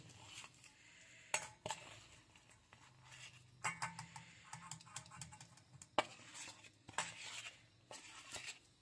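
Butter, two eggs and grated jaggery are beaten together in a bowl, with an irregular run of close clattering, scraping and tapping strokes of the utensil against the bowl.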